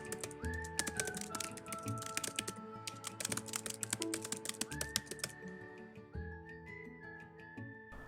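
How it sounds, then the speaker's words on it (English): Someone types text from The Great Gatsby on a computer keyboard, a dense patter of close key clicks. A sustained whistled melody with gliding notes runs over the typing, and no one speaks. "Typing Out The Great Gatsby"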